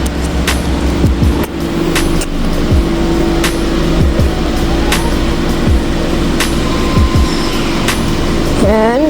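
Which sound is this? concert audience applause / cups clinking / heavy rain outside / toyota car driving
toyota car driving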